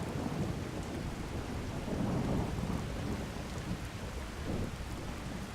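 A thunderstorm soaks carriage drivers waiting in the street as steady heavy rain hisses down, with low rolling thunder swelling in the middle. No voices are heard over it.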